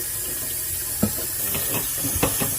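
Cut vegetables and spinach are rinsed together in a bowl under a running kitchen tap, giving a steady close hiss of water broken by a few soft splashes and knocks.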